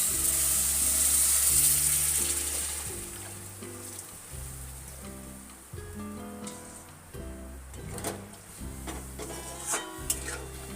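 Hot water poured into sizzling masala for spice chicken curry in a pan, a loud steady frying hiss that fades a little, with occasional clinks of a utensil stirring.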